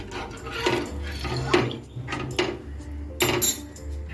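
A spoon clinks and scrapes against a metal pot as sugar-free sweetener is stirred into water, with a few soft, irregular taps close by.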